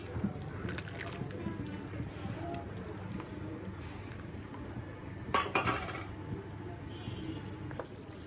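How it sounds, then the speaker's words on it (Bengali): A large pot of khichuri being stirred slowly with a utensil, giving soft scraping and occasional metallic clinks that cluster into a brief louder burst partway through, over a steady low background hiss. "এই যে খিচুড়ি নাড়া দিয়ে দিতেছি আস্তে আস্তে।"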